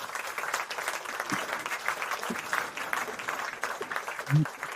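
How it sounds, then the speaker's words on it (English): Audience applause for a guest on a casual talk show, a steady wash of clapping at moderate distance with a few low voice sounds mixed in. "applause for our guest today, huh?"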